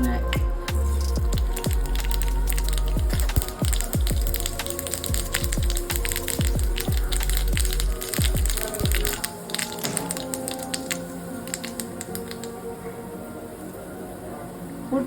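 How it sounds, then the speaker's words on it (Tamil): Mustard seeds and urad dal crackle in hot oil for a tempering, a dense run of close, sharp pops and spits over a steady sizzle, continuous throughout. "கடுகு உளுத்தம் பருப்பு போடுங்க."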